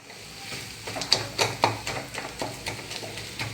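A spoon stirs and mashes a banana and aval (flattened rice) mixture in a bowl, giving a series of soft, irregular scraping and tapping knocks at close range.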